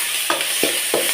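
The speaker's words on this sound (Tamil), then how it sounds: "தாளிக்கலாம். கருவேப்பிலையை போட்டுக்கலாம்." Curry leaves go into hot oil for tempering, giving a constant loud sizzle with three short stirring scrapes spaced evenly through it.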